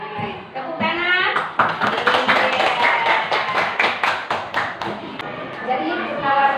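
Schoolchildren in an Indonesian primary classroom clap together on cue. The quick bursts of hand claps are loud and close, with some children's voices and shuffling mixed in.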